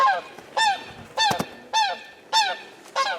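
Several geese on a small homestead honk loudly and close by, with harsh repeated calls about every half second and no talking.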